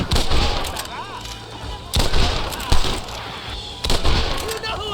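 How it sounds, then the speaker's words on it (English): Enemy gunfire from the top of a cliff in the video game Red Dead Redemption: repeated sharp rifle shots crack out in irregular bursts, loud and near, with shouting voices between them. "They're shooting down on us!"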